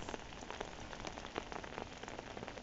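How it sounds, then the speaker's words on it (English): Rain falls steadily on a windy day, a dense crackling patter of drops on a surface. It keeps up an even, close hiss throughout. "it's very windy and rainy"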